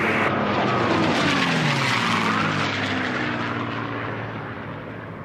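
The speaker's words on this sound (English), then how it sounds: "we've actually got 3 aircraft fairly close together here" Three unlimited class racing airplanes roar past close together at a national championship air race, a loud continuous propeller-engine drone with a sweeping pitch shift as they pass and slowly fade.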